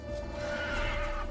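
Roach the horse gives a loud, close neigh in The Witcher 3, a wavering whinny sustained for just over a second and heard alone without speech.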